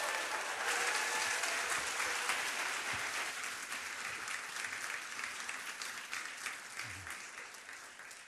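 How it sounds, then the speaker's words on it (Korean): A large church congregation in Seoul applauding loudly, steady clapping with some cheering mixed in, slowly tapering off toward the end. "서울 드림께서만 들을 수 있는 뜨거운 환호성으로 박수해 주시면 감사하겠습니다"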